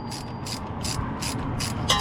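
Close, rapid clicking of a ratchet tightening the power steering pump bolts on a 2004 Hemi Ram 1500, in several short bursts of ratcheting separated by brief pauses, with no talking.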